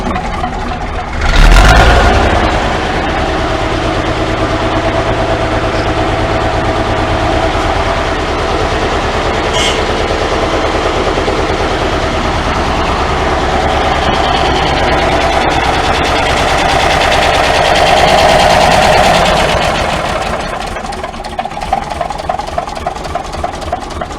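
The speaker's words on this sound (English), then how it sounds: "Now I've got the Volvo started up." Volvo bus diesel engine starting with a brief loud burst, then idling steadily with a deep continuous rumble and a faint whine inside a restoration shed in Scotland.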